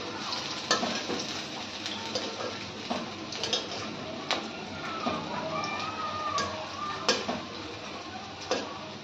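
Food frying in a pan during Bengali home cooking, a steady close sizzle with occasional sharper clicks and stirring scrapes, no talk over it.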